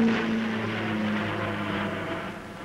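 A Vickers Viscount turboprop airliner flies past at the 1952 Farnborough Air Show, its engines a loud steady droning hum with a tonal whine that eases slightly toward the end.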